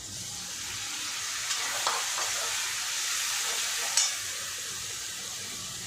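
Steady, close sizzling of onions with chili paste and garlic paste frying in a pan, with a few soft stirring clicks and no talking.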